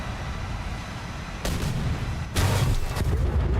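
Bombs going off in the War Thunder jet air battle, heard as a steady rumble of engine and gunfire noise that jumps twice in loudness with broad booming blasts, the second one bigger and sustained.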